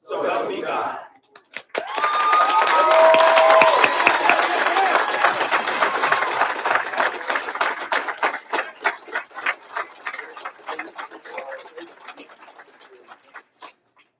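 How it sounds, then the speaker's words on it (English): Audience at a prisoner reentry program graduation ceremony breaks into loud applause and cheering with whoops, the clapping thinning into scattered claps toward the end. "Can we give the judge another gigantic round of applause?"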